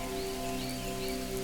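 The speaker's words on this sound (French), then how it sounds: "Là, c'est la pluie" Rain falls steadily in a continuous hiss of drops, even and moderately loud across the whole stretch, with a low sustained hum beneath it.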